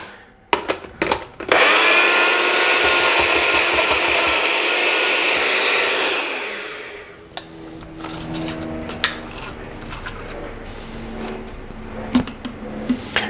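Kitchen blender pureeing ingredients for a weeknight dinner: a few clunks, then a loud steady high whirring roar for about five seconds that cuts off, followed by quieter clattering and handling noises.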